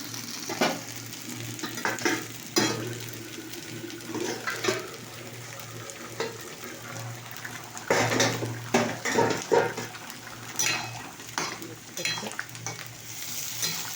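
Potato fritters frying and sizzling in hot oil in a pan alongside a potato and pointed gourd dish, a continuous close sizzle broken by louder bursts and the clatter of a utensil against the pan.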